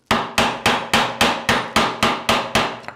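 Nine evenly spaced hammer blows strike hard wood while a half-lap notch is cut, each a sharp loud crack with a short decay, steady rhythm about three per second, no voices.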